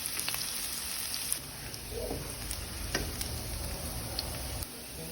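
Onions and garlic fry in hot oil while chicken adobo flakes are being cooked, making a continuous crackling sizzle with scattered sharper pops throughout.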